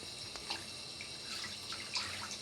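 Running tap water rinses a kitten in a sink, a steady, moderately quiet stream with small splashes and drips and no voices.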